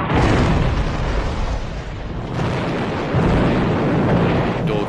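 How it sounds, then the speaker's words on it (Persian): Heavy British naval gunfire and shell explosions striking French warships in a wartime sea battle, a dense, loud continuous roar of blasts and rumbling booms throughout, with no clearly separated individual shots. "بریتانیایی‌ها شلیک می‌کنند."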